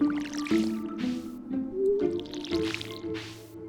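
A watering can waters crops in the Stardew Valley video game, making a run of soft, repeated splashing, squishing drips over gentle tonal background game music.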